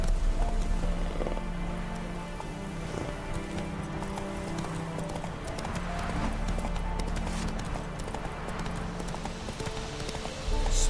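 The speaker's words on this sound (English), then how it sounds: "Run, Roach." Roach, the horse in The Witcher 3, gallops in a steady, loud rhythm of hoofbeats that runs the whole stretch, with game ambience and music layered beneath.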